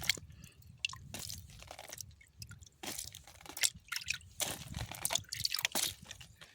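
Water trickles and squishes into soil in a small plant pot holding a kiwi seed, with irregular wet drips and crunchy bursts up close and no talking.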